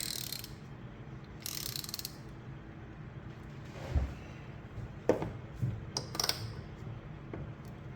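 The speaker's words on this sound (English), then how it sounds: "Take our 7/16, tighten up our fitting." A 7/16 wrench tightens a plastic fitting by the heater of a Bissell Little Green Pro Heat carpet cleaner, heard as close, quiet metallic clicks, creaks and scrapes scattered over several seconds.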